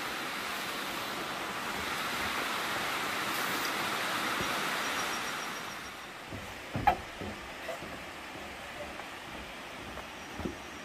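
Rushing water from waterfalls and a mountain stream on a Seoraksan hiking trail, a steady broadband roar that eases after midway, leaving quieter flow with a few scattered knocks and footstep-like thumps.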